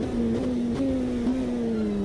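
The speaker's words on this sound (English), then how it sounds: "Have a listen to that Cosworth engine." A Cosworth race car engine in the Automobilista 2 sim, heard from the cockpit as a steady, sustained whine that holds a pitch and shifts slightly across a short stretch.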